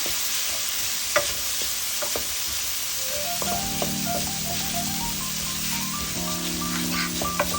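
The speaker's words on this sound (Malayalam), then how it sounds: "ടൊമാറ്റോ സോസ് ഇട്ടിട്ട് നല്ലോണം മിക്സ് ചെയ്യണം" Maggi noodles with tomato sauce are stirred in a sizzling pan, a constant frying hiss with occasional spoon clicks; midway a tonal electronic melody with steady held notes plays over the cooking.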